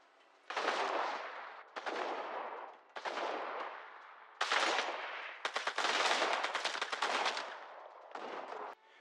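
Repeated bursts of rapid gunfire from infantry weapons in the war video game Foxhole, loud and close, in several separate volleys separated by short pauses, with no voices.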